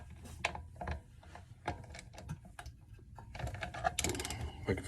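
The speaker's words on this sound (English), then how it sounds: "Take those bolts off." Bolts being loosened and removed from the plastic carburetor and air cleaner housing of a small engine, giving a run of close, uneven ratcheting clicks and metallic ticks with no talk.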